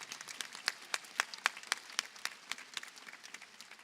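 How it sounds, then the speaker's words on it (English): Applause from an audience at a university fall convocation, honouring the young people, comes as a short burst of clapping with distinct individual claps in a quick uneven rhythm. "I just want to give these young people a round of applause again"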